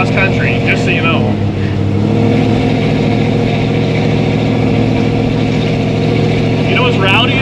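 A 1964 Chevy II engine rumbles loudly and steadily with a strong, throaty drone on its first drive, holding fairly even throughout while people talk and shout excitedly over it.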